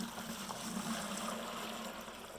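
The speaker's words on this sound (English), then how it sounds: "We're going to dump about half of the water into a clean mixing bucket." About half of a batch of water is dumped into a clean mixing bucket for a GFRC concrete countertop, a steady splashing rush lasting a couple of seconds at moderate level.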